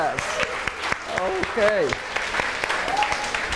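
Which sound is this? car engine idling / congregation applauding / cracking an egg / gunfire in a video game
congregation applauding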